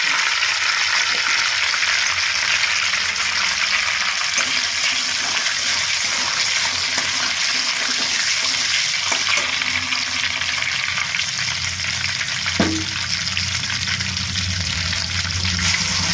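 Two bay leaves and a spoonful of cumin seeds frying in hot oil in a pan, giving a loud, continuous close sizzle that runs steadily throughout with no talking.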